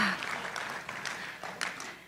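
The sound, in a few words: congregation clapping hands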